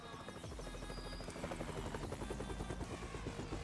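A helicopter in the online role-playing game Next RP, its rotor chopping in a steady, loud, continuous drone with a constant whirring engine buzz throughout.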